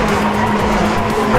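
A Hyundai RN24 electric rally car, driven by Dani Sordo, drifts in a loud, unbroken rush of motor whine and tire roar that stays at the same level for the whole short moment.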